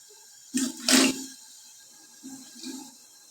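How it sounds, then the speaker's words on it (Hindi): Blanched carrots tip into a pot of ice-cold water with a couple of close splashes in quick succession, followed by softer sloshing and dripping as the water settles. "इस तरफ इस ठंडे पानी में डाल देना है।"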